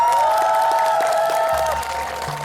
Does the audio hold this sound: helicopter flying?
no